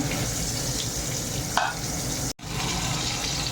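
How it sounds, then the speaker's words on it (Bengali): Bay leaves and onions frying in oil in a pan make a steady close sizzle, broken by a brief clink and a momentary cut near the end, with no voices. "এখানে দুটো তেজপাতা আর পেঁয়াজগুলি ঢেলে দিলাম। এবার পেঁয়াজগুলি একটু লাল লাল হয়ে ভাজা হবে।"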